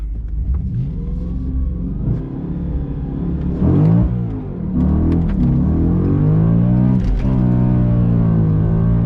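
Audi B7 RS4 with a 4.2-litre V8 launching hard from a standstill on a high-mileage car, the clutch slipping badly, so the engine revs climb and flare loudly and rise unevenly while a rough rumble runs throughout, heard close with no talking.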